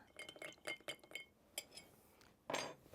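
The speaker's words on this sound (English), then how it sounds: "Oh, I forgot to stir." A spoon stirs a spiced rum and amaretto cocktail in a glass, making a quick run of light clinks against the glass, then a pause and one louder clink, all faint and close.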